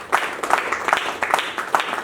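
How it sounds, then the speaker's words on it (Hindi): An audience in a church claps in a sparse, irregular patter, a handful of separate claps in quick succession at moderate volume rather than a full sustained ovation. "तालियों के साथ सुनकर धन्यवाद करें"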